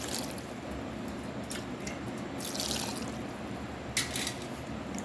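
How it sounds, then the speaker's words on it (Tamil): Water poured from a tumbler over figs in a bowl for rinsing, a soft steady trickle with scattered drips and splashes, close and fairly quiet, no talking. "இதில் ஒரு 2 டம்ளர் தண்ணி ஊற்றி"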